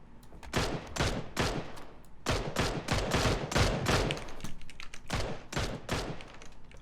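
Repeated bursts and single cracks of gunfire in a PUBG-style battle royale shooter, loud and close, coming in irregular clusters with short gaps between volleys.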